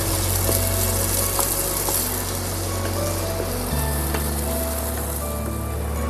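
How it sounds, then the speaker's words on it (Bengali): Chopped onions sizzle steadily in hot oil in a pan, frying to a light brown for a flattened-rice pilaf (chire polao). A close, continuous crackle with a low hum underneath and no talking. "হালকা বাদামি করে ভেজে নেব। পেঁয়াজ দিয়ে দিলাম।"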